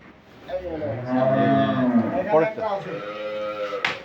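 A dairy cow on a farm in Dinajpur gives a long, loud, close moo that rises and falls, followed by a shorter second call.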